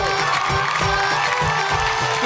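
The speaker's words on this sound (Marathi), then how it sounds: "एकदा जोरदार टाळ्या झाल्या पाहिजे तायांनो." A large crowd of women at a lively televised stage event in Vita, Sangli, claps and cheers loudly and steadily, with scattered shouts and whoops rising through dense, continuous applause.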